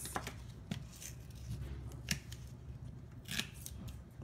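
Scissors cut paper close by in several short, crisp snips spread across a quiet room, with no talking.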